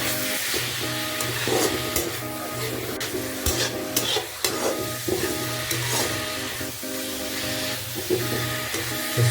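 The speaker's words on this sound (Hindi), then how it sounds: "क्योंकि मशरूम भी भून जाएगा और प्याज भी साथ में भूनेगा।" Mushrooms and onions fry together in a pan with a steady close sizzle, overlaid by repeated scraping and stirring strokes from the spatula throughout.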